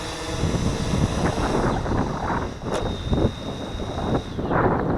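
Gusty outdoor wind buffets the microphone with a loud, continuous low rumble that surges and eases, while a faint high whine from a small drone's motors sounds in the background.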